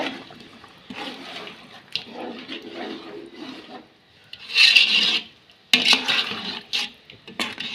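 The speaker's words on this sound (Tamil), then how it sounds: "ஒன்றரை லிட்ரு தண்ணி ஊற்றிருக்குங்க" Water pours and sloshes into a pot of cooked chicken for chicken biryani, with rough scraping and stirring noises, loud in bursts and close by, with no voices.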